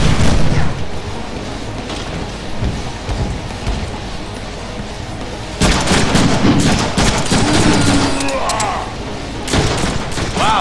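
A sticky grenade blast in the Deadpool video game, a loud booming explosion with rumbling, crackling debris that swells midway through and lingers as a noisy roar, set against continuous game sound.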